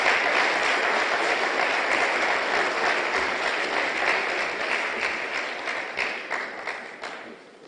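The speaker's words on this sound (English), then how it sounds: "Keep the applause coming, man." Sustained applause fills a graduation ceremony for a police inspector development course, the crowd's clapping loud and dense at first, then gradually thinning and fading over several seconds.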